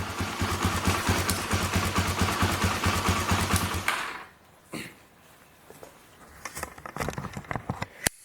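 A 1995 Honda XL250 Degree motorcycle engine, smoking heavily, runs loudly and steadily for a few seconds, then cuts down to quieter sputters and ticking.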